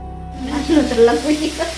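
Potatoes frying in a home kitchen pan, a steady low sizzle with a few brighter crackles, close by and moderately loud, with no talk over it.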